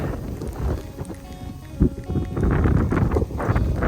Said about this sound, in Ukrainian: сніг, вітер, плюс 4 градуси, це якийсь град навіть падає